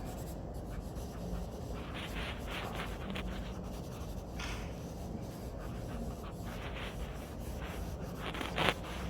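Charcoal is rubbed across paper to soften a background in a drawing, a soft, continuous scratchy rubbing close by with short brisker strokes and no talking.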